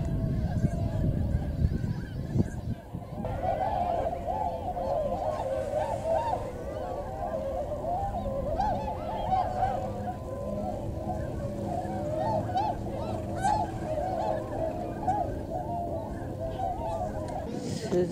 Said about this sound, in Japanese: 白鳥のようです。